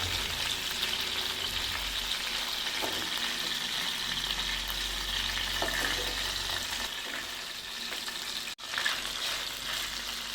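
Prawns fry in hot oil for a Kerala-style prawn pickle, giving a steady, loud broadband sizzle with faint stirring scrapes, and a brief dip near the end.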